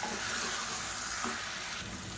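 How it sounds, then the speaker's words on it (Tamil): Chicken and potato with coconut paste sizzle and fry in a pan as they are stirred, a steady close crackle with faint scraping. "சேர்த்துட்டு நல்லா வதக்கி விட்டுக்கலாம்."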